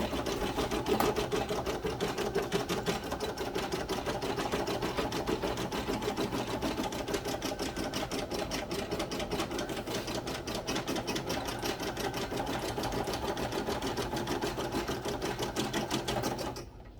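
Embroidery sewing machine stitching out a sticky note holder design, a fast steady mechanical clatter of needle strokes running unbroken and close for the full length before stopping abruptly.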